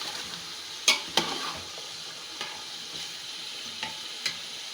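Chicken frying in a pot, a quiet constant sizzle broken by a few sharp clacks of a utensil hitting the rim, spaced irregularly, with no voices.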